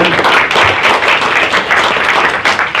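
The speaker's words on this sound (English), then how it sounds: "let's give another round of applause for all the managers who shared" A sales meeting audience gives the managers a round of applause, with dense, loud, sustained clapping from a group that carries steadily through the whole moment without any talking over it.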